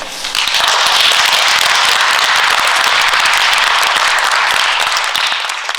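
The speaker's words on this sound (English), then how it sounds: "A big clap for Gary Benton." Loud, dense applause from an audience at a film show, steady crackling clapping from many hands that swells quickly and holds without talk.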